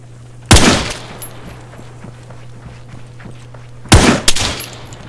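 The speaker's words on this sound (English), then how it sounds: "Is that you shooting?" Gunfire in the survival video game Breaking Point: two loud, sharp shots about three and a half seconds apart, each followed by a short echoing tail, over a steady low hum.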